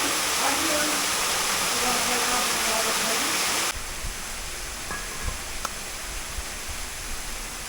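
Waterfall at Bainskloof during an abseil, a loud broadband roar of rushing water that cuts to a quieter, more distant wash partway through, with a few sharp knocks afterward.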